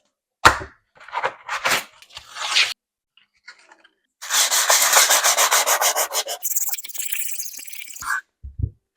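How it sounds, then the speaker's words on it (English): Hand sanding of a kitchen tile in a far corner, with short bursts of scraping followed by a long run of steady, rhythmic back-and-forth rubbing strokes, close and fairly loud. "sand one of these tiles in kind of an inconspicuous area, like this far corner"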